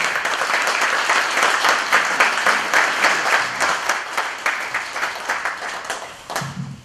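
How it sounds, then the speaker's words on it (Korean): A lecture hall audience at a university talk gives sustained applause to welcome the speaker, dense clapping that thins into individual claps before fading near the end. "큰 박수로 환영해 주시기 바랍니다"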